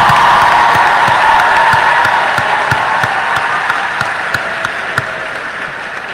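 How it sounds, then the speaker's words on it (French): Dense, steady applause from a crowd honouring graduates at a graduation ceremony, many hands clapping close together and loud throughout, easing off slightly toward the end. "Prêtez même comme applaudissement."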